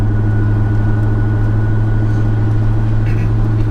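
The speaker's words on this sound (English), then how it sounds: "you get choo-choo noises and a giant 5-cylinder growl" A big-turbo Volvo S60R five-cylinder engine holds a steady, deep, droning growl with a constant low hum throughout, loud and close, with no voices.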